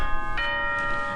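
Doorbell chime in the game Danganronpa, sounding as sustained bell-like tones that ring steadily through the whole moment, with a soft brighter strike near the start and faint background murmur underneath.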